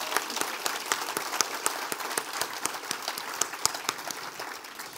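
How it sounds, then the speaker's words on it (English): An audience claps through a round of applause at a farewell presidential address, with distinct individual hand claps popping out of a steady, moderately loud wash. "let's give them another round of applause"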